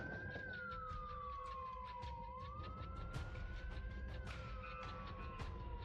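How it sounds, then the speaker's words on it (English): Police-style sirens wail in the video game Project Zomboid, one rising and falling tone sweeping slowly up and down over a dense, steady background at moderate distance. "They'll lose pursuit and go back to the sirens here."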